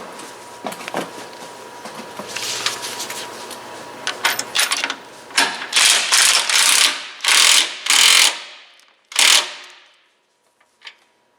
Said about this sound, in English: I'm just going to stick a bolt on that now.